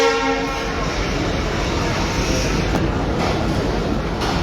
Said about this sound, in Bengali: 3 নম্বর প্ল্যাটফর্মে রয়েছে সুবর্ণ এক্সপ্রেস ট্রেন, যেটি চট্টগ্রামের উদ্দেশ্যে কিছুক্ষণ পরে ছেড়ে যাবে